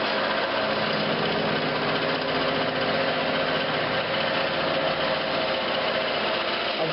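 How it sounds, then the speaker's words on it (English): A wood lathe spins steadily while a Forstner bit bores a mortise into a roller pin blank, giving a constant, loud motor whine and cutting drone with no pauses for the full stretch. "I've just marked my Forstner bit at about 1 1/8 inches. I'm just going to cut in all the way to my mark."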